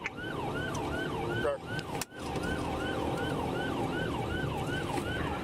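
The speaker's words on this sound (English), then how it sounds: "The driver, Jesus Santiago, ignored the sirens and hit a screaming 120 miles per hour on Interstate 395." Police siren wailing continuously during a high-speed chase on Interstate 395, a loud, steady up-and-down wail with vehicle road noise underneath and a brief dip partway through.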